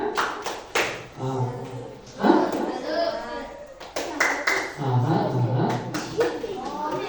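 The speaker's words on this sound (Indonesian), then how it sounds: "Cek sound, tepuk semangat" A classroom group performs a rhythmic cheer clap during a teacher's performance test, sharp patterned bursts of hand claps from many children alternating with a teacher's voice and children answering.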